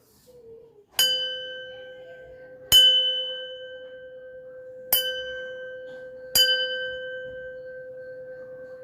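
An antique bronze bowl, part of a hundred-year-old antique collection from Karaikudi, is struck four times, each strike ringing out clear and bell-like with a long, steady sustain that carries into the next hit.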